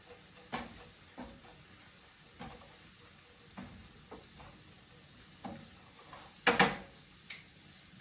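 A honey, Dijon and balsamic glaze bubbles quietly in the pan used for pork chops, soft sizzling broken by faint stirring taps and a brief sharp clink.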